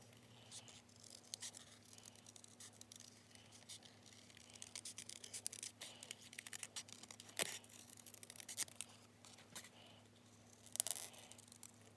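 Scissors snip around a paper image to cut it out closely, making quiet, irregular crisp clips and rustles over a steady low electrical hum, with a few sharper snips standing out.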